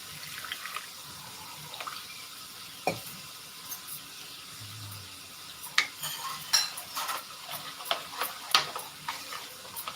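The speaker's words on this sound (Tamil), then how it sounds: "அது கொஞ்சம் தண்ணி ஊற்றி கலக்கிக்கலாம்" Scraping and clinking of a utensil stirring water into flour in a bowl, with intermittent sharp taps over a quiet background hiss.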